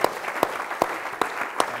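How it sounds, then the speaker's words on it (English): Audience at a conversation event applauds a speaker, a moderate wash of clapping with a few sharp, evenly spaced louder claps standing out near the front. "I'd like to applaud her"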